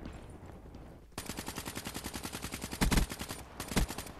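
Video game gunfire in Black Ops 3 plays as a rapid, steady burst of automatic shots, close and loud, with a couple of heavier blasts near the end and no talking.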